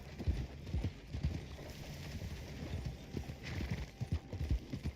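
Horse hooves clip-clopping in the Western video game Red Dead Online, a steady trotting rhythm of close, low thuds that carries on for several seconds, with faint background ambience.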